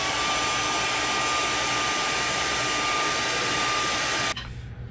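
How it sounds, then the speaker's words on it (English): A heat gun heat-sets airbrushed paint on a hand-carved lipless crankbait fishing lure, a loud steady blowing roar with a faint high whine that cuts off abruptly near the end. "Give that a little quick heat set."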